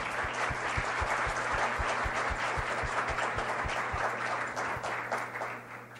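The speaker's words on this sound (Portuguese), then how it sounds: "Palmas." An audience applauds at the opening ceremony of a university event, a dense, sustained clapping that fills the room, with a steady low thumping pulse running beneath it before it thins toward the end.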